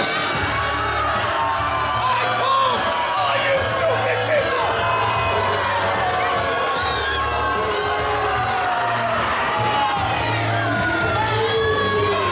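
A large pro wrestling crowd at a televised show roars and jeers continuously at the television champion, a dense wall of shouts and booing with individual yells poking through.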